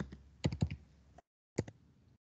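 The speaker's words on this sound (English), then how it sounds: "Typing now in a sec." Quiet typing on a computer keyboard while writing MATLAB code: short bursts of crisp key clicks in quick clusters, a pause of near silence, then a few more keystrokes, close to the microphone with no voices.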